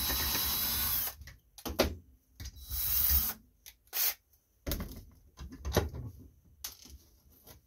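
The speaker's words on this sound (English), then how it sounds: "I'm going to finish drilling the rest of this out" A power drill whines in short, loud bursts, drilling out metal pop rivets on the shroud of an Agri-Fab leaf vacuum, with brief quiet gaps and rattling between each run.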